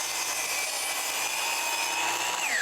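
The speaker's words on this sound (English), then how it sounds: "I'll start by cutting the shelf and the rail on the miter saw" A miter saw cuts a wooden shelf and rail, giving a loud, continuous whirring blade noise throughout, with the pitch dropping sharply at the end as the blade winds down.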